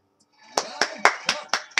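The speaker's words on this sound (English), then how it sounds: "Why are you clapping?" Quick hand claps, about five sharp strikes in an even rhythm, close and fairly loud, at home during a Bible trivia board game.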